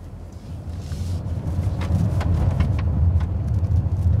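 Tires thump and rattle over a bumpy cobblestone road as a Citroen C5 X PHEV 225 in sport mode rolls along, its low engine and suspension noise rising and staying loud.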